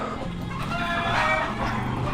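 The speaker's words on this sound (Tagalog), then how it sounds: "Ingay ng manok." Chickens cluck and fowl chatter in a steady, busy background, with no voices over it, moderately close.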